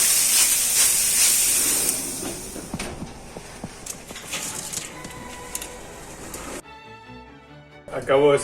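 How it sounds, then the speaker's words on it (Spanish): Water from a spray bottle hisses in several short spritzes onto bread dough in a home oven to create steam, close and fairly loud, with kitchen clatter and a voice partly over it. "lo vamos a pulverizar con un poquito de agua, un pulverizador, para que haga vapor cuando lo ponemos en el horno"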